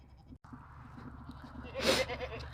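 Goats on a farm, with a short bleat rising near the end over a quiet background.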